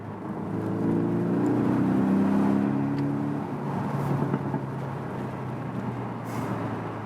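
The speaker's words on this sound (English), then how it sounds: "You can fourth, third, second, goes that fast." A Porsche 718 Boxster S engine hums and whirs steadily from inside the car while shifting gears, rising briefly in pitch before settling into a constant drone.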